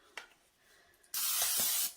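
Cooking spray hisses onto a baking dish in one steady, close burst lasting under a second, following a faint click of the can.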